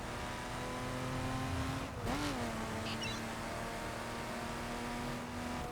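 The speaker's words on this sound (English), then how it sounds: "Car sounds nice as well." Sustained car engine drone in the racing game The Crew Unlimited, a steady, loud hum with a short pitch dip and recovery midway, like a brief lift off the throttle.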